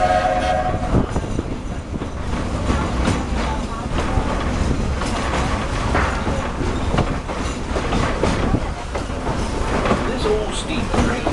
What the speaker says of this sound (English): This old steam train needs water to keep going.